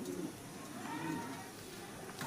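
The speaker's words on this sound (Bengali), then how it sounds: "একদম বন্ধ রুমের পায়রা" A young red female pigeon kept in a closed room coos softly, a faint low warble heard close by in a quiet room.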